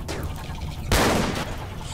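Gunfire from colonists in the RimWorld video game, a loud burst of shots in the middle of the clip over a steady background of game sound.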